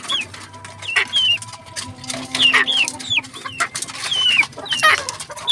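Chickens and chicks cluck and peep steadily at feeding time, with repeated high chirps and lower hen clucks overlapping close by throughout.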